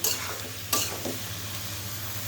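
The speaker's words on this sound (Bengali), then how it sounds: "এইটা দিয়ে এখন সুন্দর করে মিশিয়ে নিব।" Bottle gourd with turmeric and salt stirred in a frying pan, a steady sizzle broken by a couple of quick scraping strokes, close and without speech.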